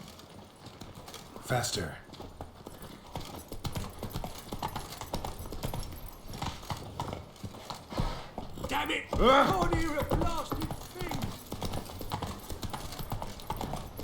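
Horse hooves clip-clop at a gallop in The Witcher 3 Wild Hunt, a steady rhythmic beat running close throughout, with a short neigh near the middle and someone talking over it.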